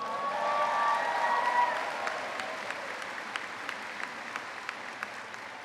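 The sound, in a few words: commencement audience applause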